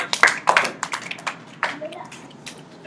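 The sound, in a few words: children applauding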